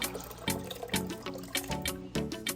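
Water sloshes and pours as fish are tipped with their own tank water into a paludarium enclosure, with repeated close splashing bursts in a steady rhythm and no talk.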